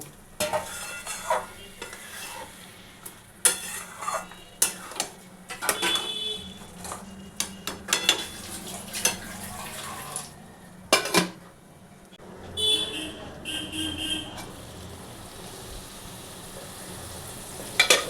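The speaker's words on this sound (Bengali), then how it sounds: "মাংসটাকে আমি ঢেকে ঢেকে ভালো করে কষবো বন্ধুরা।" Mustard mutton frying in a covered pan, a soft sizzle under repeated metal clatters of a spatula and lid against the pot, with a few quieter stretches; no talking.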